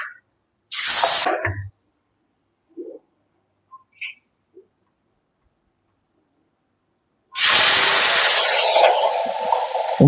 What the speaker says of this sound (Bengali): এবার ধুয়ে নিই, গরম জলটা দিয়েছিলাম।